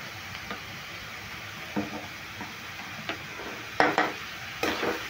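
A spatula stirs grated potato, carrot and a vegetable filling in a pan, with soft intermittent scrapes and a few sharper knocks against the pan over a quiet background.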